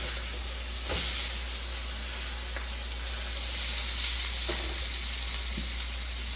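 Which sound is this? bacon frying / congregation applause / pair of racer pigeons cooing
bacon frying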